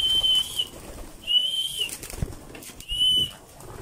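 Racing pigeons are let out for a morning flight, with bursts of close wing flapping and clattering alongside three repeated high whistling tones.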